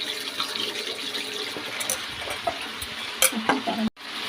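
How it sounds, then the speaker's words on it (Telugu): Marinated chicken pieces deep frying in hot oil, a steady close sizzle and bubbling with scattered clatter from stirring toward the end, no voices. "ఆయిల్ హీట్ ఎక్కింది. సో కొంచెం కొంచెం వేసుకుంటూ మనం డీప్ ఫ్రై చేసుకోవాలి"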